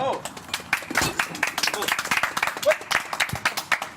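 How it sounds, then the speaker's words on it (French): A television studio group claps in a short, uneven burst, with scattered hand claps mixed with talk and movement, moderately close and not very loud. "C'est bien parce qu'ils s'applaudissent eux-mêmes"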